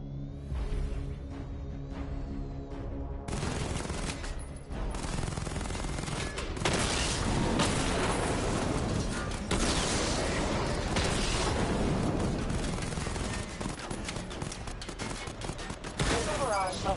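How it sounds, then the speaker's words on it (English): The Batmobile's weapon in Batman: Arkham Knight fires rapid, dense bursts of gunfire and explosions at targets, loud and nearly continuous, after a short stretch of a synthetic voice announcing a diagnostic. "Destroy targets to charge up weapon energy and activate missile barrage."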